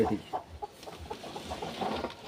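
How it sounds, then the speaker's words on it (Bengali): A chicken clucks in short, repeated bursts close by, with faint background noise. "এই যে মুরগি এটা তো বড় রে"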